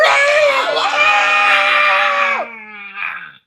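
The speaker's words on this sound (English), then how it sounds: "She also can hear the terror-filled screams of her crew." Terrified crew members in an audio drama let out loud, high-pitched screams that hold for about two and a half seconds, then trail off into a shorter, fainter cry.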